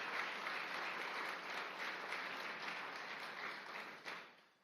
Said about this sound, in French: on peut quand même les applaudir aussi